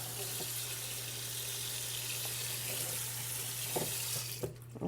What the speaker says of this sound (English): So just rinse it off a little bit with some cold water